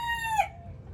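A single rooster crow rings out loud and close in a farmyard, then breaks off. Behind it there is a faint low murmur from the hens.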